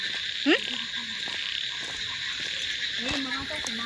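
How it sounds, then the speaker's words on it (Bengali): Frogs croak in short rising calls over a steady, high chorus of crickets on a rainy-season night in a rural village beside a waterlogged field; the insects drone continuously while a few croaks stand out nearby. "রাত্রেবেলা ব্যাং ডাকছে ঝিঝি পোকা ডাকছে"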